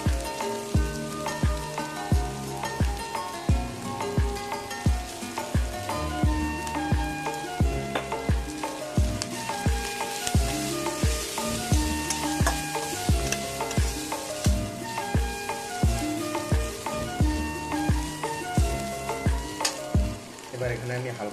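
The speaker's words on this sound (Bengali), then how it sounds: "পেঁয়াজ ভাজা হয়ে গেছে, এবার আমরা দিয়ে দেবো আদা রসুনের বাটা।" Ginger-garlic paste sizzles in a pan of fried onions for a pomfret curry, a steady close-up crackle broken by rhythmic scraping as the mixture is stirred.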